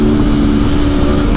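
A 2021 Aprilia Tuono V4 Factory naked motorcycle engine pulls hard under acceleration, a loud, steady close-up drone with a strong low hum and no pauses.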